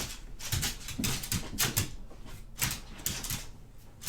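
Two dogs play-fighting indoors, their claws clicking and tapping rapidly on a hard floor in irregular bursts at close range, with occasional soft scuffles and no talking.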